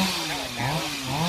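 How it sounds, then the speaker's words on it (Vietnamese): A chainsaw cuts through a eucalyptus tree with a continuous buzzing roar whose pitch dips and rises as the chain bites, loud and steady throughout. "Ba của Hoa đang tiếp tục cưa cây bạch đàn."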